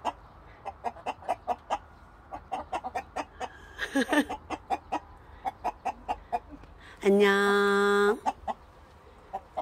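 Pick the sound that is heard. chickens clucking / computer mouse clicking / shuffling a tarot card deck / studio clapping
chickens clucking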